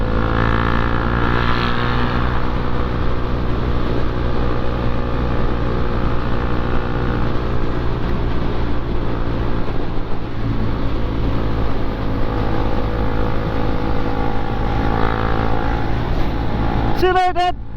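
A car idling nearby with a steady low engine drone, then pulling away and driving past, with someone talking over the engine noise throughout.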